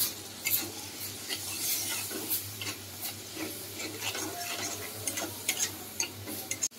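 Spice paste with coriander powder, salt and a little water being stirred and fried in a pan: soft continuous sizzling under repeated light scraping and tapping of a spoon, close and moderately loud, without any voices.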